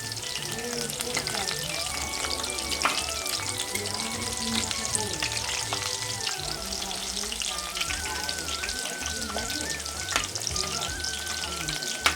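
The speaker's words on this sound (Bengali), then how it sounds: "এবারে এগুলো আমি পকোড়ার আকারে ভেজে নেব আর এদিকে আমি কড়াইতে সাদা তেল দিয়ে দিয়েছি" Chicken pakoras fry in hot white oil in a kadai, producing a constant, crackling sizzle with bubbling pops, close and steady throughout with no pause.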